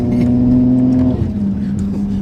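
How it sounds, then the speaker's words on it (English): A Ferrari engine revs loudly from inside the cabin, holding a steady high note and then dropping and shifting pitch, with a voice faintly underneath. "See the way it revs. Put that window up so we can hear more of the car."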